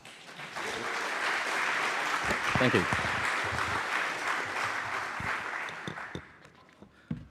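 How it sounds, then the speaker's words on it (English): Conference audience applause rises quickly into sustained, dense clapping and fades out near the end, followed by a brief spoken thank-you. "So, round of applause."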